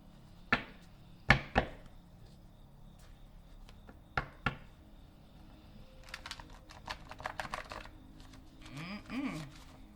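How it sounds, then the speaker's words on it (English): Playing cards are shuffled in a quiet room: a few sharp snaps early, then a rapid riffle of crisp flicking, ending with a soft bridge-like whir, moderately close and with no talk. "we're going to shuffle it up some more."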